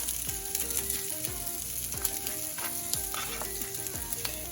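Spam frying in a pan for fried saimin, a steady close sizzle with repeated scraping and stirring strokes throughout.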